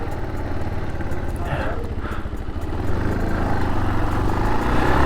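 A 1983 Honda TLR 200 trail motorcycle being ridden, its engine droning steadily up close with a slight rise in revs partway through, while someone talks over it.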